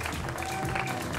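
Concert audience applause, a short burst of steady crowd clapping mixed with cheering at moderate distance.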